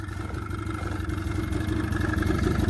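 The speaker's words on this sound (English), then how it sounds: "this one's still over here idling at like 0 RPM." A small engine idles at very low RPM after a pull start, a steady, loud, rhythmic low chug with a slight air-leak roughness, running alone with no voices.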